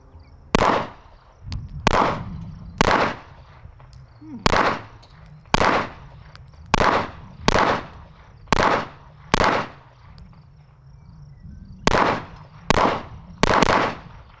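A Staccato CS compact pistol fires carry ammunition in a sharp, irregular string of a dozen loud reports, each with a short ringing tail, with brief pauses between groups of shots.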